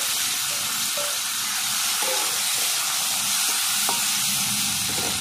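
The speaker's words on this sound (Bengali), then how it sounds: "এরপরে আমি আমশিগুলো এক এক করে সব দিয়ে দিচ্ছি।" Dried green mango pieces going into a hot pan of frying small fish with dried chillies, a steady loud sizzle and hiss with a few scattered clinks throughout, no voices.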